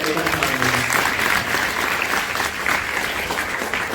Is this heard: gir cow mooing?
no